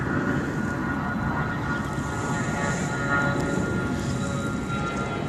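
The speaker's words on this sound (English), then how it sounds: "And there go those bloody planes again." Airplanes flying low over a flooded lake park, a steady broadband engine roar filling the whole stretch, continuous and fairly loud with no talk over it.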